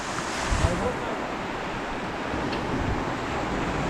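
Sea waves wash steadily onto the shore during a sea bass fishing outing, a broad continuous surf hiss with wind buffeting the microphone and a few low thumps near the start.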